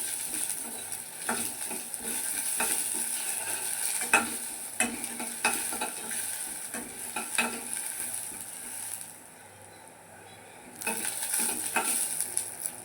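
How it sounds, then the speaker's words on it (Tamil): Urad dal roasting in a pan over a medium flame for a tomato chutney, with steady close stirring scrapes and a soft continuous sizzle that briefly drops away before the scraping resumes. "நல்லா கலர் சேஞ்ச் ஆகி கோல்டன் கலர் வர்ற வரைக்கும் நம்ம வறுத்துக்குவோம்"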